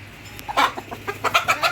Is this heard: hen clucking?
yes